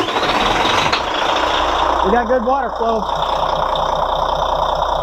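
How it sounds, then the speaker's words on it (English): A boat engine runs in neutral, a steady mid-range rumble that fills the clip with no clear rev change, while someone speaks over it near the end. "I'll rev it up a little bit in neutral"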